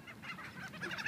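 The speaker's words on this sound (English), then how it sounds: "Here comes the birds again. They're all coming back." Birds in a feeding frenzy squabble over bread and chips, a brief burst of harsh, honking calls close by, with no talk over it.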